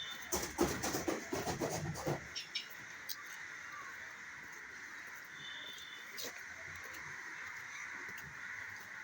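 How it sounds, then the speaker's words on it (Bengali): Outdoors, several harsh, crow-like calls come in a quick cluster at the start, then give way to a quiet, steady background hum with a few faint chirps. "সুন্দর পাখিদের আওয়াজ শুনেছে।"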